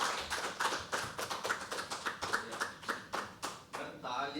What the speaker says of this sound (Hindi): तालियां बजती रहना